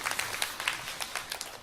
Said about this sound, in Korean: 우리 박수로 한번 축복해 주시기 바라겠습니다.